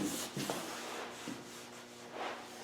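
Cloth dampened with brake cleaner rubbed over a sliding side window frame to clear grease, oil, dirt and dust, giving soft scrubbing strokes in a few uneven bursts, close by and fairly quiet.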